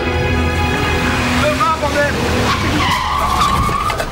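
A car skids close by on a street where taxis pass, tires screeching in a drawn-out squeal over steady traffic noise, with people talking throughout.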